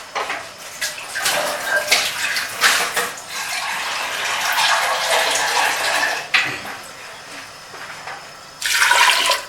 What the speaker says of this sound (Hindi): इसमें थोड़ा सा पानी भी शामिल होगा।